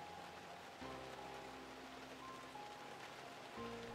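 Steady rain pours down as a thunderstorm passes, a dense, even patter on surfaces with faint tonal hums underneath, fairly quiet and with no voices.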